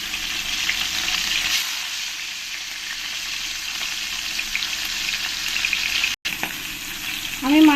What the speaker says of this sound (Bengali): এবার এই মাছগুলোকে আমি ভেজে নেব বেশ লাল লাল করে কড়া কড়া করে আমি মাছগুলোকে ভেজে নেবো